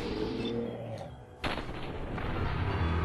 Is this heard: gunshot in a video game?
yes